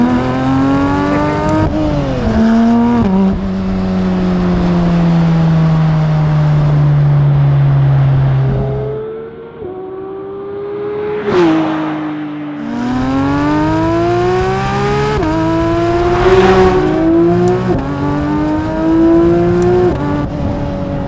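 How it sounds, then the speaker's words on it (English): A Porsche 992 GT3 RS engine revs hard through rising gears, each pull climbing in pitch before a shift, with a brief lift-off dip midway and then strong renewed acceleration, loud and close. "You know how quickly this car accelerates? It's been so impressive."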